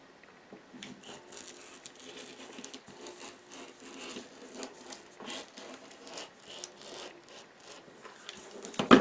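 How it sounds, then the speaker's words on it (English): Scissors cut an arc from paper along a dashed line while making a paper-pieced log cabin quilt block: soft, close snipping and rustling in an irregular patter, quiet throughout and a little louder at the end, with no talking. "cut an arc out right on the dashed line"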